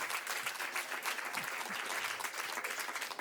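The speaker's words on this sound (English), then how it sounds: "Give me a clap if you're a cycle person, a bicycle person." A comedy club audience claps in response to a stand-up comic, with dense, steady applause filling the whole stretch at an even level and no voice over it.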